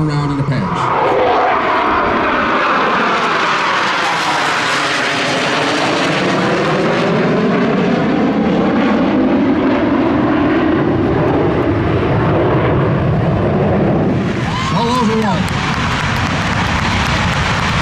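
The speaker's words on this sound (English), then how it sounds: "Blue Angel 6 accelerating straight ahead to about 500 miles an hour." A Blue Angels jet roars past at an air show at Pensacola Naval Air Station, a loud, sustained engine rush that rises and falls in pitch as it sweeps by, with another surge near the end.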